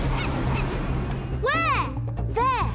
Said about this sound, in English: We've got a seagull on our tail.